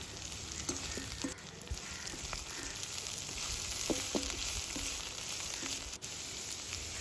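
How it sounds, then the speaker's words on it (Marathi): Chopped capsicum and cabbage stir-fry in a hot pan, a steady close sizzle throughout with a few light clicks of a spatula, no talk. "सर्व मिश्रण एकत्र करून घेऊया आणि 2 मिनिटं शिजवून घेऊया"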